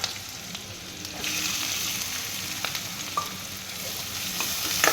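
Onions fry on a high flame with asafoetida, garlic and green chillies for pav bhaji, a loud, even, continuous sizzle with occasional faint stirring scrapes and no talking.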